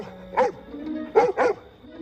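A cartoon pony from a children's animated series lets out three yappy, dog-like barks, one early and a quick pair near the end, fairly close over a faint background hum.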